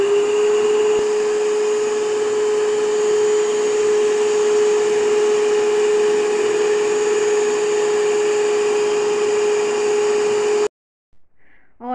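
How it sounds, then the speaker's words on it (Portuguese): An electric mixer beats egg whites while three yolks are added a little at a time. It makes a loud, steady whir for about ten seconds, then switches off, leaving faint handling noises. "aqui vou ligar a batedeira e vou colocar aos pouquinhos aqui as gemas"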